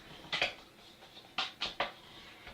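Scraping strokes of a spoon folder scoring a folded paper card for a wedding and honeymoon themed trifold, in a few short close rasps: two quick passes, a pause, then three more.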